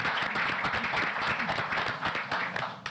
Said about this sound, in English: Can we just clap for Chad?